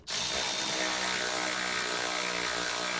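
A Milwaukee ratchet tightens the battery casing bolts on a 2010 VW Polo 1.2 petrol, a steady, continuous mechanical whirr running loud and close for the whole stretch with no talk.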